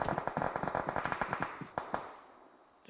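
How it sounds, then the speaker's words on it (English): Rapid bursts of video game gunfire crack out in a fast, repeated volley for about two seconds, followed by a couple of heavier isolated shots and a fading tail. "We got some gunfire over here."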